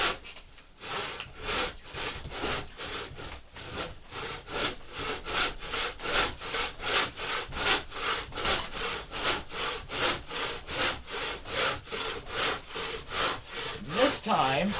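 Hand saw cutting through wood for a carved boat half hull model, a steady rhythmic series of close back-and-forth rasping strokes at an even pace, continuing without talk.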